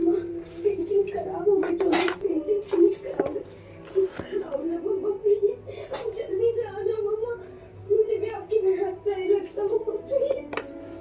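Masala for paneer tikka stirred in a pan, with repeated metal clinks and scraping of a spoon against cookware running under near-continuous talk from a woman and a child.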